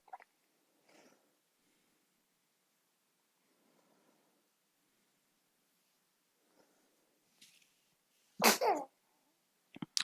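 A single sharp sneeze bursts out late in a quiet tabletop game session, loud and close, after faint rustles and small mouth noises near the start.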